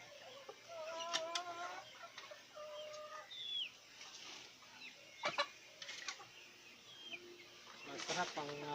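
Chickens on a farm cluck and call in scattered bursts, with a rooster-like call and faint bird chirps in the background; a voice is briefly heard among the quiet, fairly distant fowl sounds.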